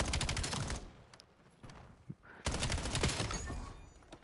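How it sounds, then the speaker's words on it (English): Rapid bursts of automatic gunfire in the Call of Duty Black Ops 7 video game, two long volleys separated by a short lull with single shots. "good shots from Marv"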